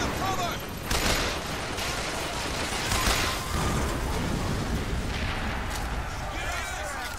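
Automatic rifle fire in the Bioshock Infinite shooter, a dense continuous clatter of shots with booming bursts and battle din, loud and close throughout with no pauses.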